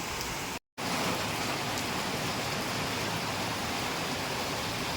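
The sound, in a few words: rain falling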